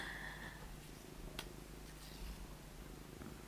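A cat purrs close by in a quiet room, a soft continuous rumbling hum with a faint tap partway through.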